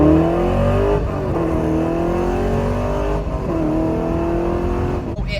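A Chevrolet C5 Corvette accelerates hard from about 10 mph, its V8 roaring loud and close with rising engine pitch through the gears.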